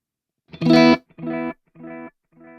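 Guitar runs through a Tone City pedal's delay side set at noon: a strummed chord rings out, followed by three fading echo repeats evenly spaced and growing quieter.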